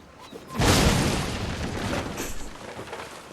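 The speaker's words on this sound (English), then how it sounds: "Now he's gonna die to the explosion." An explosion goes off in the Assassin's Creed video game, a sudden heavy boom that rolls into a long, loud rumbling blast and then slowly trails off into lingering debris noise.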